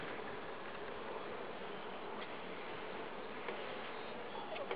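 Honeybees buzz in a continuous faint drone while a beehive is opened for inspection, a steady swarm hum with no talking.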